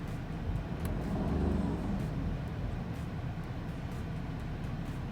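A BMW 530d F11 diesel with a DTUK CRD-t tuning box sits at a smooth, steady idle, its low rumble even and unbroken, heard close by with no other sounds.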